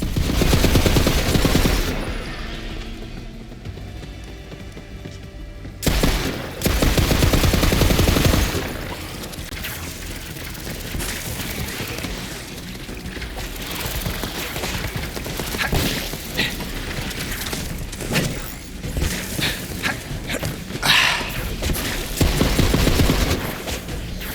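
Gunfire and explosions in the video game Borderlands 3, a dense and loud barrage of shots, booms and thuds that surges and fades over the whole stretch.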